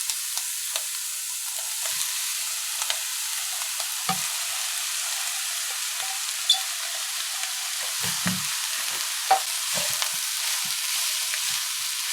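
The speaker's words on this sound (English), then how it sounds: "So now we're gonna add our rice." Rice is tipped into a pan with scallions and stir-fried, giving a continuous bright sizzle with occasional soft scraping and clinks of the utensil, and no voices.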